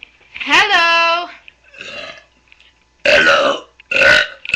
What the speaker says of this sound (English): I'm about to present you the biggest burping girl on this whole planet